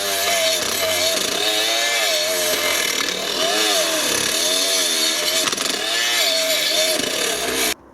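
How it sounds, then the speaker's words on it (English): A die grinder fitted with a wire brush, turned down to low speed, works over an alloy sump, giving a steady, loud, continuous whine with wavering pitch that runs unbroken for the whole stretch and then cuts off abruptly at the end. "I'm using a wire brush and a die grinder. The die grinder there, you can see it's turned right down lower"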